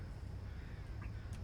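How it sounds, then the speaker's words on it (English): Crows cawing in a city at morning, a couple of short caws over a steady low hum of faint distant city ambience. "Birds cawing and some faint sounds of carts and all the sorts everywhere."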